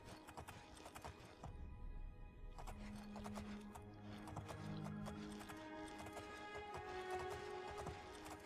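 Horse hooves clip-clop steadily in the Elder Scrolls IV: Oblivion video game, a quiet, even rhythm of repeated hoof beats over a low ambient game background without talk.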